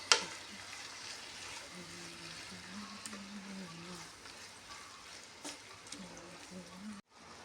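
Crushed ginger, green chilli and garlic fry in a pan with a soft, steady sizzle and occasional stirring scrapes, a voice talking faintly in the background before the sound cuts out.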